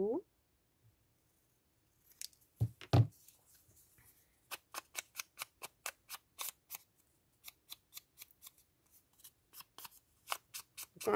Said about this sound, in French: Je vais recouper un tout petit peu le haut.